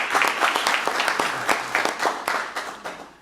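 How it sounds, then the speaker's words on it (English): Audience at a town council meeting gives a short round of applause, a burst of many hands clapping with audible individual claps that thins out and fades over a few seconds. "let's give her a round of applause."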